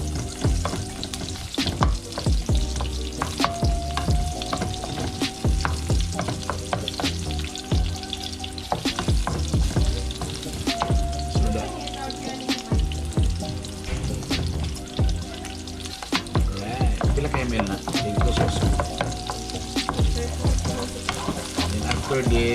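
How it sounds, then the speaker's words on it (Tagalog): Garlic and onion sautéing in oil in a pan: steady sizzling broken by repeated scraping and clanking stirs of a utensil against the pan, close and busy throughout. "Medyo ipa golden brown na to ang ahos."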